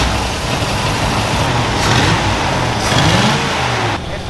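An old Ford Bronco engine runs loudly and steadily close by after cranking, with a rough low rumble and slight rises in revs.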